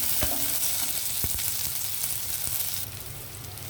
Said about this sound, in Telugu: ఇవన్నీ కొంచెం వేగనిద్దామండి. అవి కొద్దిగా వేగిన తర్వాత ఉల్లిపాయలు అప్పుడు మనం ములక్కాడ ముక్కలు వేద్దాం ఇందులో.